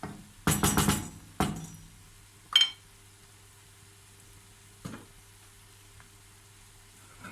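Dried green beans with minced meat roasting in a pan, with a faint steady sizzle broken by a few sharp utensil clinks and stirring scrapes, loudest early on and then sparse.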